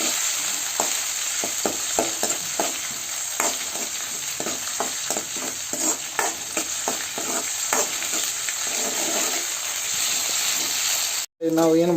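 Lentil sambar mixture stirred in a pan over heat, a steady close sizzle and hiss with repeated soft scraping strokes throughout, ending in a brief cut.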